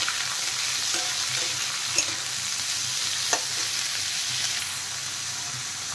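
Potato, capsicum, carrot and long beans stir-fry in a pan with a steady, close sizzle, with a couple of sharp scrapes of a spatula against the pan.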